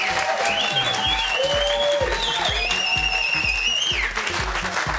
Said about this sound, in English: we want to hear a round of applause